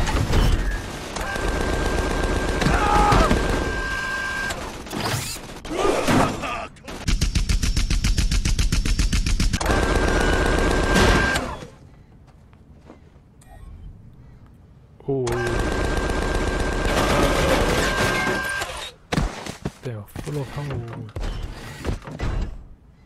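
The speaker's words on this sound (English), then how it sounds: "Please stop shooting me." Gunfire in the video game Tales from the Borderlands, loud repeated bursts of shots and impacts mixed with game music and character voices, broken by a short quieter lull before the shooting resumes.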